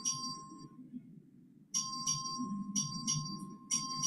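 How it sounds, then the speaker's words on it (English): Bell rung by the clerk to call a record vote in a legislative chamber, sounding as repeated bright rings that start after a pause and continue in bursts over a low murmur of the room. "The clerk will ring the bell."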